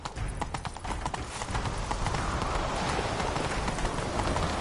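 Horse hooves gallop in The Witcher 3, a fast, steady clip-clop rhythm that starts with sharper distinct strikes and settles into a dense, continuous pounding, loud and close throughout.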